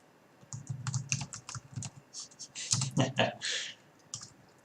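Rapid typing on a computer keyboard during a programming session, a steady patter of close keystrokes with a few heavier clicks, running under intermittent speech.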